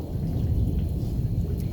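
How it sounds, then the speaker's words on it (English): A Friday night thunderstorm on a farm, with lightning and hail, gives a continuous low thunder rumble under steady heavy rain, loud and close throughout with no voices. "we're having so much lightning and thunder still"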